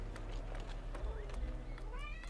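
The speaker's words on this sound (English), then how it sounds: "Oh, look, there's a cat." A cat meows in the Medieval 2: Total War Stainless Steel England campaign, a couple of short mewing calls heard under game ambience and a speaking voice.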